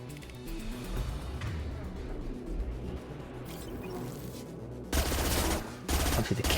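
A rapid-firing gun in Mass Effect 2 rattles in dense automatic bursts under a constant game background, with a louder, harsher stretch of fire near the end and a voice talking over it.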